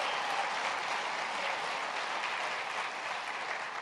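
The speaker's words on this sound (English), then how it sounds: "can everybody please give Shaniqua a big round of applause for her great story" Audience applause at a College Opportunity Day of Action event with President Obama, a steady, dense wash of clapping that fills the whole stretch without pause.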